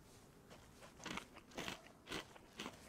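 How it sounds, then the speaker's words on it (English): Crunchy bites of sardines being eaten in the video game DayZ: four or five distinct crunching chews spaced about half a second apart, close and crisp, with no talking. "Very crunchy sardines"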